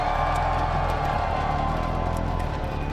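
Large esports arena crowd at a League of Legends playoff event (EWC 2025), a continuous loud roar of cheering and whooping that holds steady throughout.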